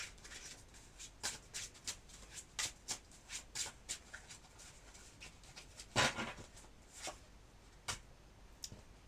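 Playing cards being shuffled and handled close by, a run of quick crisp riffles and snaps in an irregular rhythm, fairly quiet, with no speech.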